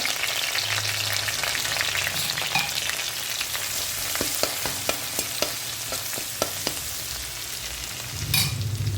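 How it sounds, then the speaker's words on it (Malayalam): Crushed garlic and curry leaves fry in a pan for a pork and koorkka dish, giving a continuous moderate sizzle dotted with sharp crackles and pops, with a brief stirring scrape near the end. "അതിലേക്ക് വെളുത്തുള്ളി ചതച്ചതാണ് ഇട്ട് കൊടുക്കുന്നത് അതുപോലെ കുറച്ച് വേപ്പില നമുക്ക് ഇട്ട് കൊടുക്കാം"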